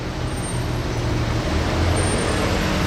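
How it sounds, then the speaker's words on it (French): A Porsche GT3 RS sports car climbing a street in Monaco, a dense steady roar of engine and road noise that stays loud and even throughout. "Regardez la GT3 RS qui monte."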